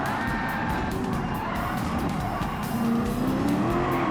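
Car tires squealing and skidding in Gran Turismo 7 as the car nearly spins out, a steady engine drone under rising tire squeal, with no talk.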